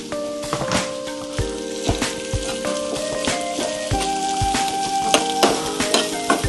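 Onion, capsicum and beans stir-frying on high flame, a steady loud sizzle with scraping stirs and clinks of the spatula throughout.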